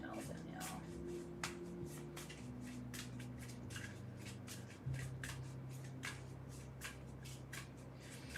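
Oracle cards are shuffled by hand in a quick, repeated riffle of crisp slaps and rustles, close and fairly soft, over a steady low background hum.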